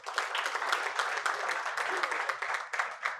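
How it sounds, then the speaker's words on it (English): An audience at an annual lecture on tax reforms applauds the keynote speaker, a steady wash of many hands clapping that holds through the whole stretch at moderate loudness with no single claps standing out. "Let's give him a round of applause."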